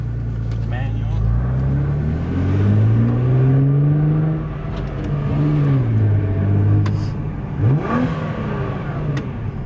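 A Nissan GT-R R35 engine fitted with an AAM 2.75-inch intake revs up and down repeatedly nearby, its pitch rising and falling in long sweeps with a rumbling, throaty tone.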